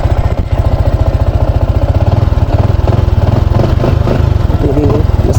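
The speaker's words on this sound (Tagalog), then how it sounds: "napansin ko mukhang gumanda yung hubong ng kanyang makina" A Sniper 155 motorcycle engine, previously misfiring at high rpm, idles steadily up close with a loud, even, rapid thrumming pulse and slight mechanical clatter, no voices.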